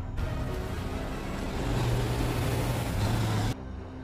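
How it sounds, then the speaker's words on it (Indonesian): A truck driven fast in a film scene, a loud continuous engine roar with road rumble that builds slightly in the middle and then cuts off abruptly near the end. "Dia pun berusaha menghindari serangan Rusty sambil mengemudikan truk dengan kencang"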